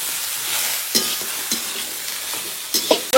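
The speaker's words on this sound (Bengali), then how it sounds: "এরপরে আমি এই সবজিটা নেড়ে চেড়ে ভালো করে শুধু ভেজে নেবো" Vegetables with turmeric being stirred and fried in a pan, a steady close sizzle with a few clinks and scrapes of the spoon against the pan.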